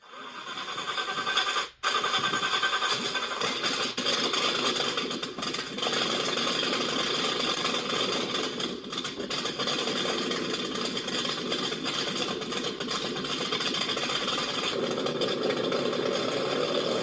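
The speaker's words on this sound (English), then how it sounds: "Alright, so we're going to run the engine again." A light aircraft engine on a small airplane running steadily on the ground, a loud continuous droning rattle that holds for the whole stretch after a brief dip near the start.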